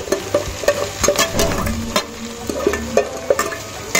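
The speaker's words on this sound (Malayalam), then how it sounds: "അതിനുശേഷം നമുക്ക് സവാള ഇട്ട് കൊടുക്കാം" Half a kilo of onions tumbles into ginger garlic paste and curry leaves frying for chicken biriyani, loud close sizzling with repeated rhythmic scrapes and knocks of a stirring spoon.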